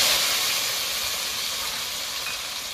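Boiled taro stolons fry in hot oil with dried red chilies, whole cumin and mustard seeds, giving a steady, close, bright sizzling hiss that fades slightly over a few seconds.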